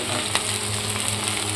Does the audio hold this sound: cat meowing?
no